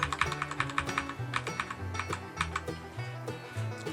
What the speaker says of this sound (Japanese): キーボードの上を押して合わせましょう。